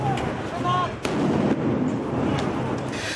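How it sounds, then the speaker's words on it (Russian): Explosions go off in central Kyiv during clashes between opposition protesters and security forces, with sharp bangs at irregular intervals over a constant roar of crowd noise and distant commotion. "Взрывы в центре Киева не прекращаются до сих пор."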